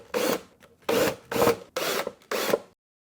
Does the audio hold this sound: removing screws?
yes